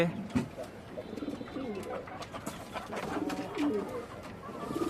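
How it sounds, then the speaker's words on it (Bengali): Pigeons cooing on the rooftop of a six-storey building where chickens are also kept, soft repeated coos close by mixed with chatter and someone talking over them. "কবুতর আছে"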